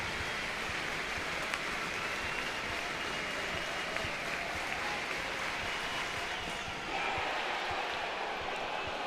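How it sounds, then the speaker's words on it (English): Crowd at an LSU versus Little Rock college baseball game applauds and cheers steadily, a dense, distant wash of clapping and noise that holds throughout with a slight swell near the end. "you just got a feeling this crowd will make a little bit of noise"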